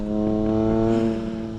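A Triumph Trident 660 motorcycle fitted with a custom aftermarket exhaust gives a steady, loud, throaty engine drone heard close up, a brief sustained burst with no talking.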